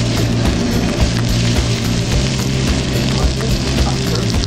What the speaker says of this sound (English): I'm going to add some onions to it, and I'm going to add some of the bigger vegetables and let them sweat a little